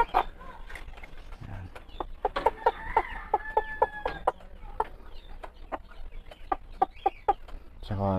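Frizzle chickens cluck in a backyard, a run of short, close clucks and soft calls with occasional louder notes, spread over a low outdoor background with brief rustling.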